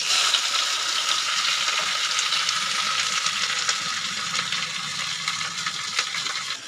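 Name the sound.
onions frying in oil with black cumin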